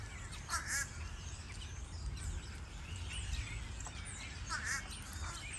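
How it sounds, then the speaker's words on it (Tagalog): Crows caw repeatedly from a tree, several harsh calls rising over a steady low outdoor rumble, moderately distant and fairly faint. "There's so many crow bird here."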